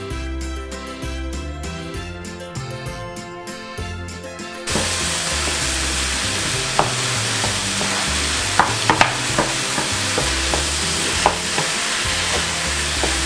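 Cauliflower rice with tomato puree and taco seasoning is stirred in a hot pan, a loud continuous sizzle with scraping spoon strokes that begins abruptly after a stretch of music.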